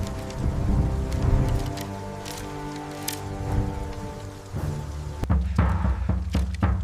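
Rain pours down steadily, a dense hiss of drops with low rumbling underneath and scattered sharp splashes and knocks near the end, set in a medieval battle scene.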